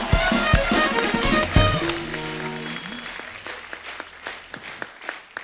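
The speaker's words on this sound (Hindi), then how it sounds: "ओ एक बार जोरदार तालियां" A TV comedy show studio audience applauds loudly at first, the clapping thinning out and fading to scattered claps as music plays briefly beneath it.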